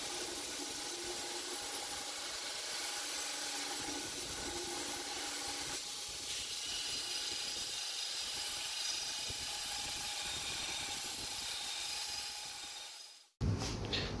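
A belt grinder works a Damascus steel chef knife blank, giving a steady hissing, whirring grind that runs continuously before cutting out abruptly near the end, followed by a short bump.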